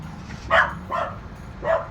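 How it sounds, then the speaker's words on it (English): Dogs bark in the distance outdoors, three short sharp barks spaced about half a second apart over a quiet background hum. "other than the dogs barking"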